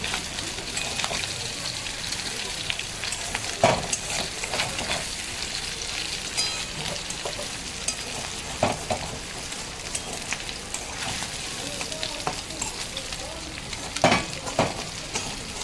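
Small fish sizzle and crackle in hot oil in an iron kadhai as they fry and stick to the pan, a continuous soft frying hiss with occasional sharper pops and stirring scrapes.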